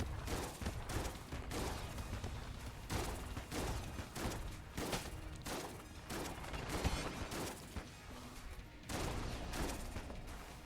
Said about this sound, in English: I'm gonna swap over to the Rattler.